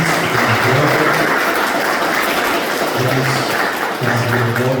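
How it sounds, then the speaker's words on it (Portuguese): Sustained applause from a church community welcoming an archbishop on a pastoral visit, a steady broadband patter filling the space with a few voices mixed in. "Acolhemos com uma salva de palmas o nosso arcebispo, Dom João"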